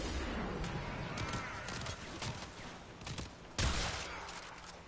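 Rapid gunfire in Warframe strikes a cryopod, a dense stream of shots and impacts with a sharper burst near the end, fairly loud over a busy game mix.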